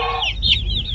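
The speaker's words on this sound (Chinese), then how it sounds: "母鸡带着小鸡出来找吃的了" A free-range hen out foraging with her chicks clucks close by in a short burst, with higher chirping calls mixed in.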